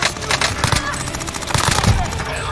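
Rapid automatic fire from a Fara 83 assault rifle in Call of Duty Warzone, dense bursts running through the whole stretch with voice chat mixed underneath.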